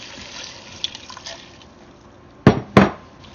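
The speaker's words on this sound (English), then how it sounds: "We're going to go ahead and add 4 cups of water." Water poured into a Ninja Foodi pot holding potatoes, heard as two short, loud splashing bursts close together near the end, after a quieter stretch of faint rustling.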